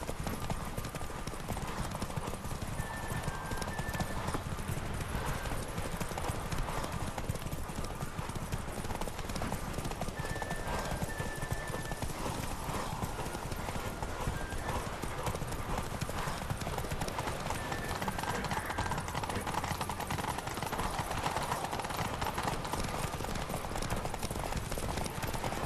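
Hooves clip-clop steadily as a horse gallops in The Witcher 3 video game, a continuous rhythmic beat over dense game music and ambience, with an occasional brief whinny.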